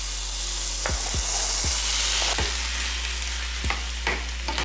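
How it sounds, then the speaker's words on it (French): Peppers and tomatoes sizzle steadily in a pan over high heat for a vegetarian chili, with several sharp scrapes and knocks of a utensil stirring them. "On va continuer à faire revenir le tout à feu assez vif."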